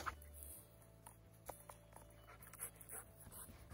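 Dog out shed hunting, panting quickly and softly with small whimpers and light pattering, faint and near, no clear talk.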